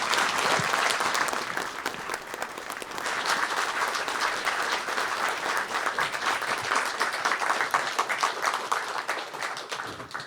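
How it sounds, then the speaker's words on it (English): An audience at a community event claps warmly for an introduced guest, a dense sustained round of applause that fades slightly near the end. "Please give a warm round of applause to Catherine Vandelinde from Options Housing."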